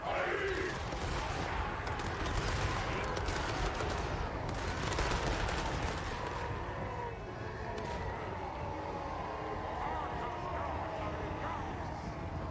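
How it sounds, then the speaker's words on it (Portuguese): Battle gunfire in Total War: Warhammer 3 crackles continuously, dense volleys and rattling shots layered over a constant low rumble of combat, with a player's voice speaking over the game sounds. "Senão a gente vai ficar tomando tiro pra sempre aqui."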